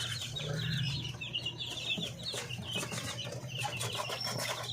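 Native Parawakan chickens, including roosters, cluck in a farmyard, with soft, continuous bird calls and chirps over a steady low hum, moderately close and without talk.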